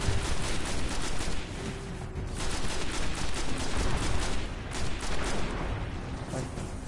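Gunfire in the Destiny video game, with a dense, loud burst of rapid shots and rattling fire that continues without pause and swells and dips in intensity.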